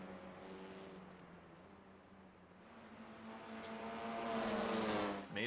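A TCR touring race car engine drones at a distance with steady, rising pitch, the note swelling louder as the car draws nearer before dipping briefly at the end.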